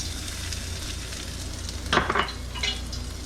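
Garlic, chilies and cashews sizzle steadily in hot oil, with a few scraping stir strokes and light pan clatter near the end; no talking.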